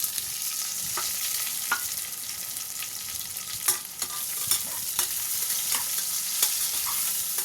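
Chopped onions sauté in a pan with a constant bright sizzle. Repeated scraping stir strokes come close and sharp at irregular intervals, and no one talks.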